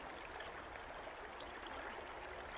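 Babbling water of Brydson Creek, a brook trout stream, runs as a steady, even rush of close flowing water with no pauses and no voices.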